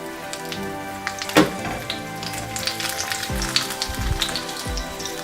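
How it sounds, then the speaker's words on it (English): Stuffed capsicum shallow frying in a little oil in a pan, a close, lively crackling sizzle with popping spatters and a few soft knocks of the pieces being moved. "Just take a pan and pour a little bit of oil so that we can do shallow fry"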